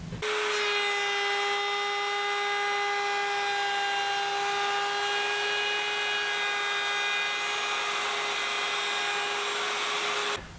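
A router in a plywood router table built into a drill press table runs steadily at high speed for about ten seconds, a strong constant whine with no talking.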